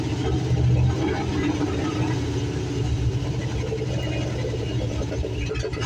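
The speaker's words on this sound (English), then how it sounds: "this engine did run, but it was angry sounding and had no oil pressure" Damaged Dodge Ramcharger 318 V8 with no oil pressure, running rough and angry with a loud, continuous close-up rumble and uneven mid-range clatter.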